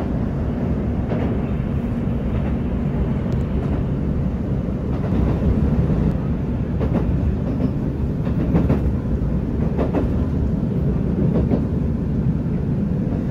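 The Rapid Mie No. 9 train rumbles steadily along the rails of Japan's Kisei Line, heard from inside the carriage, with a faint rhythmic clatter of wheels over track joints throughout.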